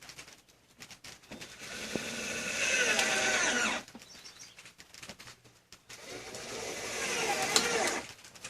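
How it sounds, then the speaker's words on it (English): A cordless drill fitted with a small nut driver bit runs in two sustained bursts of a few seconds each while fastening parts on a greenhouse frame, separated by quieter handling noise. "I've got my trusty drill and I've got a little nut driver on there"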